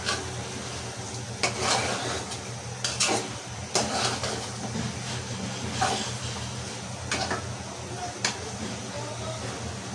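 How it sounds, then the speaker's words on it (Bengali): Potatoes sautéing with spices in a pan for a Bengali beef curry, a steady close sizzle broken by sharp scraping clatters of a spoon stirring against the pan, with faint voices and kitchen noise underneath. "আলুটা মশলার সাথে মিশিয়ে নেব আলুটাও দশ মিনিট কষিয়ে নেব"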